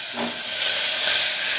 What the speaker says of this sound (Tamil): சின்ன வெங்காயம் பூண்டு போட்டுட்டு வரமிளகாய் போட்டுக்கலாம்